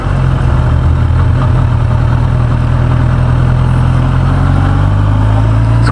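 A 2015 Kawasaki Ninja ZX10R ABS 1000cc sport bike idling on a San Francisco street, a loud steady close engine drone with a deep even rumble throughout, no talk.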